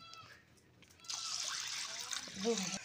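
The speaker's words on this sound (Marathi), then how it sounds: "त्याच्यात पाणी टाकून आता पाणी काढून घेत आहे, म्हणजे ते डाळीमधलं" Water is poured off washed moong dal, a quiet splashing trickle that starts partway through and runs steadily, with a voice talking alongside.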